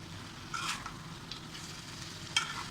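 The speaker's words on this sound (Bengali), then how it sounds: "তো আমি আলু এবং ফুলকপি দিয়ে দিয়েছি, এগুলোকে নেড়ে দেবো।" Potatoes and cauliflower being stirred in a frying pan, a soft steady sizzle with a few brief scraping stirs, quiet and close, no talking.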